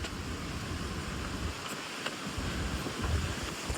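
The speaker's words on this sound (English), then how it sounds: "the wind's just picking up here" Wind gusting across an open island hilltop on a cold camping trip, a steady broadband rush with low buffeting against the microphone, fairly loud and continuous without any talk.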